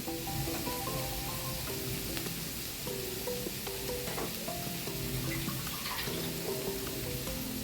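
Cauliflower bhaji in a frying pan sizzles steadily after a small splash of water is added, with a continuous close crackle and hiss and no voices.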